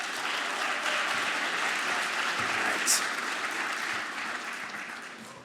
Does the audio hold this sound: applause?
yes